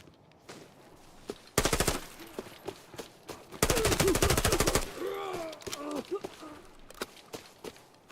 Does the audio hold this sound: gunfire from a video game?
yes